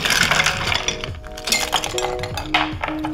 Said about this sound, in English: We're gonna ice this glass up now.